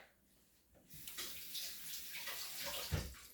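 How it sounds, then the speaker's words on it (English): Water runs steadily from a kitchen tap as a pepper is rinsed under it, a close, continuous splashing rush that begins abruptly and swells with a brief heavier splash near the end. "I have some of this pepper here. So let me rinse it off"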